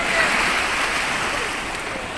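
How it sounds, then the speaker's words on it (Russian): Sea waves wash along a beach, a steady soft surf hiss close by that fades slightly toward the end. "Мы снова на море"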